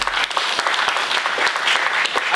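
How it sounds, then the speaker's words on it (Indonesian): Crowd at a press conference clapping for a charity event, dense continuous applause with many overlapping hand claps, fairly loud and close, holding steady throughout. "Boleh tepuk tangan untuk Kui Day Berbagi."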